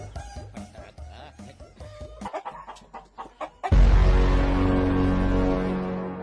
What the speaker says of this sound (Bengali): আজকাও ভিটাত মুরগি ঢুকিয়া